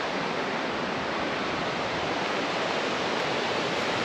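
Waves crash on a rocky shore of Nusa Penida, Indonesia, forming an unbroken, loud wash of broadband noise that holds steady throughout, close by and with no voices.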